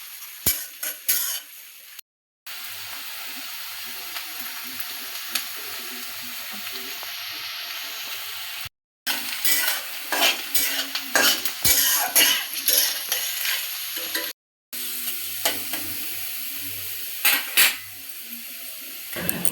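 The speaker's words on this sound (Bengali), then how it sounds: "পেঁয়াজগুলো লাল করে ভেজে নেব।" Chopped onions fry in hot oil in a pan, giving a steady close sizzle with occasional stirring scrapes and brief pauses, no voices over it.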